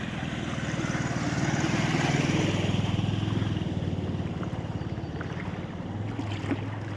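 A motorbike pushes through deep flood water on an unpaved colony street in Khammam, a continuous low engine hum with churning, splashing water, fairly close and steady for the whole stretch.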